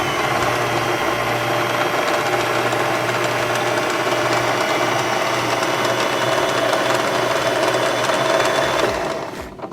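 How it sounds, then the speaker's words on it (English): A pedal-driven sewing machine winding a bobbin, a fast steady mechanical whir with rapid rattling gear clatter, loud and continuous for nearly ten seconds before slowing to a stop. "So now your pedal, if you hold this, your pedal will thread your bobbin."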